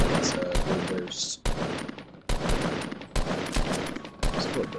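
Burst rifle firing in Fortnite Battle Royale, rapid clustered volleys of loud gunshots repeating in bursts, with a player talking over the shooting.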